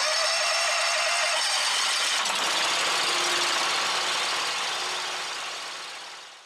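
The petrol engine of a BigFoot BF300 baler cranks and catches, then settles into a steady, rough idle, loud and close, with a broad mechanical drone that fades near the end.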